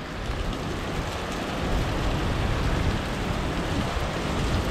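Heavy rain pours down on a forest hiking trail in Daniel Boone National Forest near Lick Creek Falls, a loud, dense, steady hiss of falling water close all around, with no voices.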